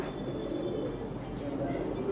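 Low, soft cooing of pigeons in a loft repeats close by over a murmuring background.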